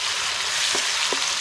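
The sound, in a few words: tomatoes frying with shallots and cashews in pan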